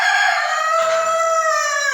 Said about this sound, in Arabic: 11 فرخه معانا اهوت